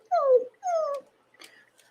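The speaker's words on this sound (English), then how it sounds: "Do you hear my dogs?" Dogs upstairs whimpering and yipping in two drawn-out whines followed by a softer, fainter yelp, heard from a distance indoors.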